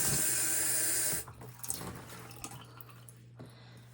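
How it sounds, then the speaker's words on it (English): Tap water pours steadily onto an etched glass jar for about a second, then stops, leaving faint drips and small clinks of glass in a quiet room. "So I will rinse this one."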